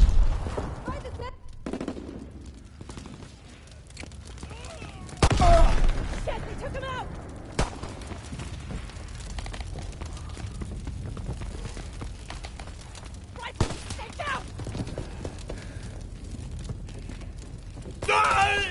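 Gunfire fills a Call of Duty WWII battle, with sharp single shots and bursts over a continuous rumble of combat, while voices shout under and between the shots.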